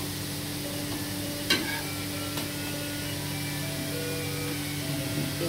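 Food sizzles steadily in oil in a pan on a gas stove, a continuous even hiss with faint crackles and a couple of brief sharp pops, close up and with no talking.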